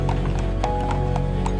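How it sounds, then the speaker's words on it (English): Horse hooves clip-clop in quick, fairly regular beats on a city street beside steel rails, close and distinct over a constant low background hum. "Steel rails ran along the streets, carrying horse-drawn streetcars through the crowded city."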